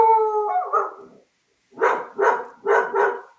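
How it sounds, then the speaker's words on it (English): A dog in an office howls, then gives four loud, close barks in two quick pairs, with no talking. "you're not hearing barking on my end, only on Christian's end at the moment"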